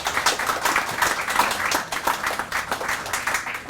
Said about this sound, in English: So we'd like to make a little round of applause for that.